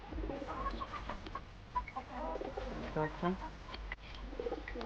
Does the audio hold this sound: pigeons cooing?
yes